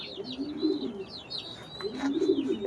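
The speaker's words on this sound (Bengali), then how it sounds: "ব্রিডিং রুমের কবুতর এটা" A racing pigeon in a breeding room coos in soft, low rolling phrases, nearby and repeated, while small birds chirp higher in the background.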